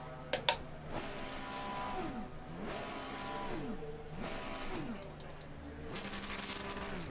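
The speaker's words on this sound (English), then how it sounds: "That is a nice engine noise." A racing car engine in Assetto Corsa Competizione revs up and down in repeated sweeps, rising and falling with each gear change. It sounds fairly faint and distant, with a couple of sharp clicks at the start.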